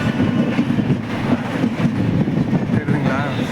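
A Tirukural Express passenger train rumbles along steadily, a loud continuous rolling roar with faint rhythmic rattles throughout.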